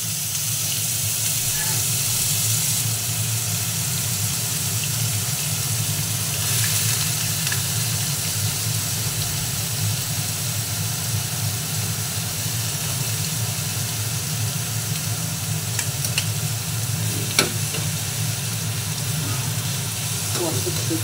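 Grated squash frying in a pan for a Bengali chhechki, a steady close sizzle and hiss running throughout, with occasional stirring scrapes and a faint clink near the end.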